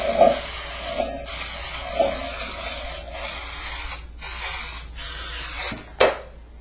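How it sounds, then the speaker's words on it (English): Cooking spray hisses onto a bundt pan in a run of short bursts, one after another with brief pauses between them, close and fairly loud with no talking. "to prepare a bundt pan, first grease it just like you normally would"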